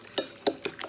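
Omelette mixture of egg, fried bacon, smoked Gouda and onions stirred in a bowl, four quick utensil clinks and scrapes spaced irregularly over a moment, close and fairly quiet.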